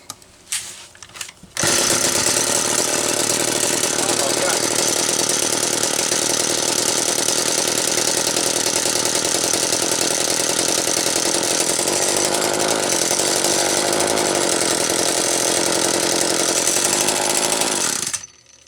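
A McCulloch Mini Mac 25 chainsaw with a fault runs loud and steady for about sixteen seconds after a couple of brief sputters, its rough, buzzing drone holding close and unbroken before cutting off.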